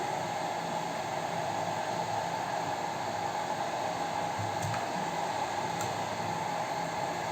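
An air blower runs steadily during a computer repair, giving a continuous broadband whoosh at constant level from start to finish, with no speech over it.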